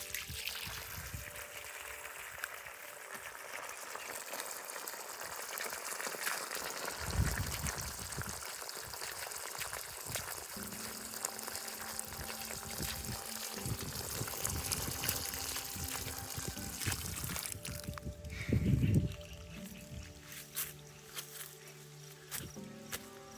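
Water flows out of an irrigation pipeline at the base of a tree on a farm. The soft, steady trickle and pour continue throughout, with faint outdoor background noise.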